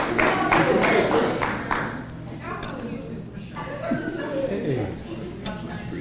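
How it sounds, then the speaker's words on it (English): Brief applause at a 2022 adult bowling association banquet honoring retirees: a short burst of clapping that fades within two seconds, followed by chuckling and talk in the room. "Let's give them a nice round of applause"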